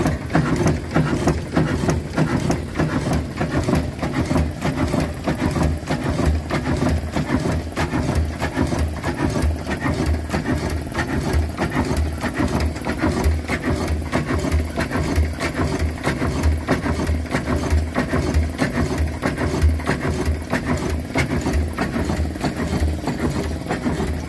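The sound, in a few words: steam engine running at steam rally, camshaft turning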